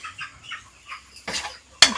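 Backyard chickens clucking at a home, a few soft clucks in a loose rhythm followed by a couple of louder, sharper calls near the end, close by in a quiet setting.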